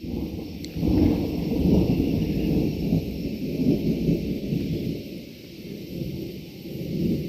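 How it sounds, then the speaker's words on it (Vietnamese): Thunder rolls as a storm approaches after the sun disappears: a deep, continuous rumble that swells and fades over several seconds, fairly close and loud, with no talking. "Hết nắng rồi, bây giờ đang sấm chớp rồi."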